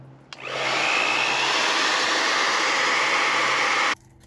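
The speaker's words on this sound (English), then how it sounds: "Guess I'll just keep on blow drying it for a little bit and see if I can get it that way." A hair dryer switches on with a click and blows in a steady, loud, close whoosh for about three and a half seconds, aimed at glue residue on an RV, then cuts off abruptly.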